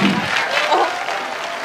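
A live concert crowd in Pietarsaari claps for a pianist, a short burst of applause that stays fairly even and then tapers slightly, with some crowd murmur mixed in.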